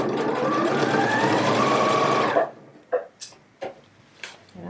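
Sewing machine stitching a jacket, a close, steady fast-running whir for about two seconds that stops abruptly, followed by a few separate clicks and taps.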